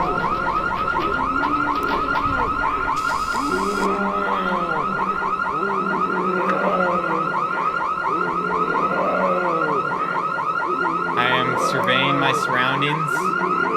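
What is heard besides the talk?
car alarm set off in horror video game Liminal City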